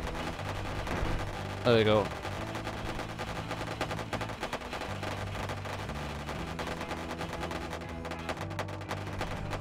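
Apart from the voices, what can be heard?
spaceship weapons firing in the video game Wayward Terran Frontier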